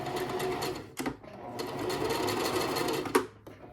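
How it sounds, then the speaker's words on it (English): A sewing machine back stitches a kimono seam, running in a steady close whir that briefly stops and restarts, with a small clunk near the end and no speech. "Let's put it down. And let's back stitch."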